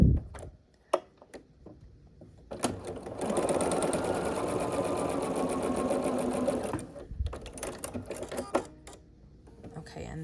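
A domestic sewing machine stitches a scrappy sampler quilt block corner to corner, one steady whirring run of about four seconds, with soft handling clicks before and after.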